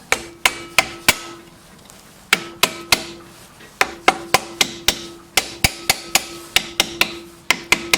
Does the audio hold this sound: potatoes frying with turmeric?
no